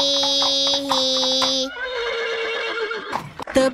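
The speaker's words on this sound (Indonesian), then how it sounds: "Ada kuda. Kuda bilang hihihihi." Horse neighing in an animated children's farm song, a loud synthesized whinny with strong sustained harmonics held about 1.7 seconds, then a falling, wavering tail and short bright bursts of music.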